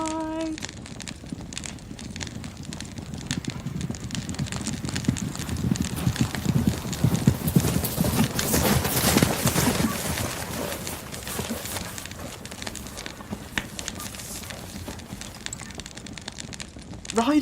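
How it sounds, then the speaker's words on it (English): Hooves of ridden horses clip-clop steadily as riders approach, rising to a peak midway and then fading, set against a broad rumbling background. "Riders! Horses!"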